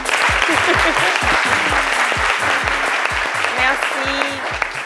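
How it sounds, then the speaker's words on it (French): Loud audience applause fills a French midday show, a thick continuous clapping with steady low thumps pulsing underneath. "on peut les applaudir très fort"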